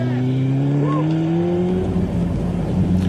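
A motorcycle ridden upright through a curve, its engine holding a steady rising drone up close for about three seconds, with a lower rumble joining toward the end.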